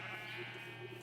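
A sheep bleats in a modded video game, a brief, faint, wavering call over a steady background hum.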